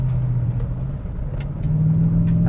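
A Ford F-150 Raptor R rolls onto gravel, its low engine drone steady from inside the cab, with a faint crunch and rattle of stones and a rise in rumble toward the end.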